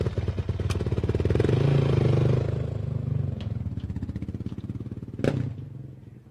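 An open-class off-road racing motorcycle idles and revs at the Baja 1000 tech inspection, a steady close engine drone with a pulsing beat, plus a couple of sharp clanks.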